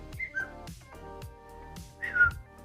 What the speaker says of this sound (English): That's my phone, sorry, whistling at you.